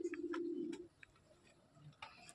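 Lakka fantail and Sundori pigeons give one soft, close coo at the start, followed by faint rustles and small clicks.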